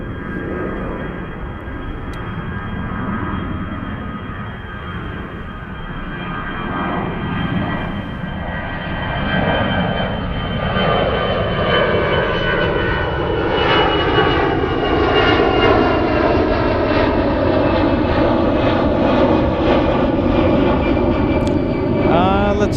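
A fixed-wing Edelweiss airliner on runway 34 at Zurich airport gives a loud, steady engine roar that swells and holds. Its rising and falling whine layers over broadband rumble, with faint talk underneath.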